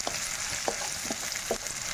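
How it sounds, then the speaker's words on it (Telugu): Washed prawns sizzle in hot oil in a pan for a gongura prawn curry, a steady close crackle with a few louder bursts as they are stirred. "ఈ టైంలో మనము కడిగి పెట్టుకున్న రొయ్యలు వేసుకుందాము. ఎందుకంటే ఆయిల్లో ఫ్రై అవ్వాలన్నమాట."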